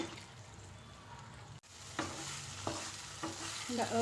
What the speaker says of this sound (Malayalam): ചെറിയ തീയിൽ വെച്ച് നമ്മൾ ഇത് ഇളക്കിക്കൊണ്ടിരിക്കണം.